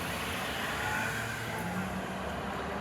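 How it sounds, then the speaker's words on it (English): A car passes by outside, a steady broadband rumble of engine and tire noise that holds at the same level throughout without any clear build or fade. "That sounds like their car."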